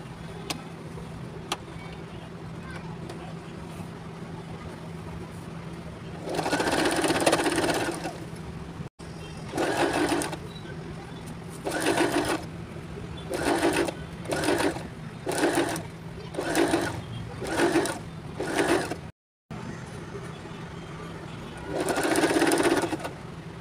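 Sewing machine running in a series of short stitching bursts, top-stitching a newborn baby cap, with pauses between runs and a steady hum underneath; close and moderately loud, with no talking.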